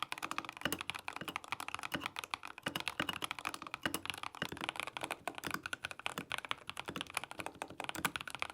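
Rapid, continuous clacking of mechanical keyboard keys being typed on, crisp and close, with no voices.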